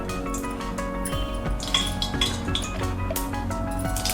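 A metal wok set on a gas stove over a low flame, with pans and utensils clinking repeatedly at close range against a steady background hum; no one speaks.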